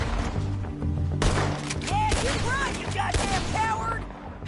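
Gunfire in the video game Red Dead Redemption 2: several sharp, loud shots in quick succession, with voices talking between the blasts and whistling ricochet-like tones.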